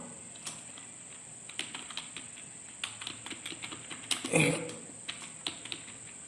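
Caption text being typed on a computer keyboard in MS Word: a quick run of light, close key taps with an uneven rhythm and a brief louder clatter partway through, over a faint steady whine, no voices.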